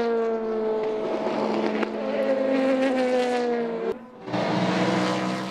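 Race cars roar past in the closing minutes of the 2018 4 Hours of Silverstone endurance race, engines whining loudly and continuously with shifting pitch, a brief dip near the end before the roar resumes.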